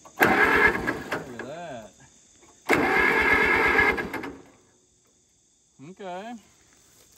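A 1945 Allis-Chalmers WD tractor engine cranks over in two long, rhythmic churning bursts with a pause between, without catching, while someone speaks briefly between attempts.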